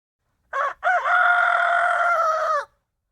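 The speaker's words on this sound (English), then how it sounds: "Rooster." A single loud rooster crow, a short opening note followed by a long, drawn-out call, clear and close, with silence around it.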